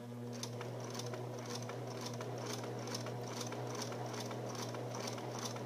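A sewing machine stitches a fabric seam in a steady, even run of close needle strokes, moderately loud and alone, with a constant motor hum underneath.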